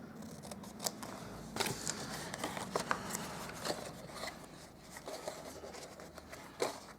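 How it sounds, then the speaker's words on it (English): Scissors snip paper flaps off a stamped note card gift box in a run of close, crisp cuts, quiet and with no talking. "on all of these little flaps, we're going to cut off that 1/2 inch right off"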